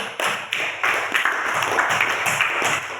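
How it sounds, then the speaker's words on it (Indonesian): Classroom clapping for a student named Putri, a small group of pupils clapping close by in uneven bursts that start sharply and stay brisk throughout. "tepuk tangan untuk Putri"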